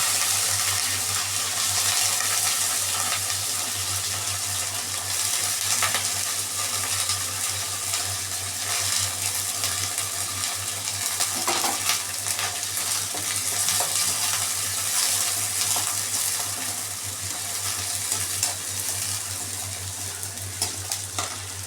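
Shallots sizzle steadily in hot oil in a pan, a loud continuous frying hiss with occasional stirring scrapes, running unbroken with no voices.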